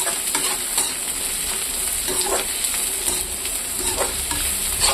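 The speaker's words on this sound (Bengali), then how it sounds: "আর এখানে কড়াইতে পেঁয়াজ, কাঁচা লঙ্কা, শুকনো লঙ্কা দিয়ে দিয়েছি ভাজার জন্য।" Onion with green and dry chillies frying in a wok for tomato chutney, a constant loud sizzle with occasional stirring scrapes and crackles, no voices.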